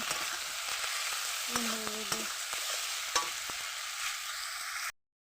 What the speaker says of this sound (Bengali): নুন দিয়ে দেবো, হলুদ দিয়ে দেবো, আর একটু ভেজে নেব।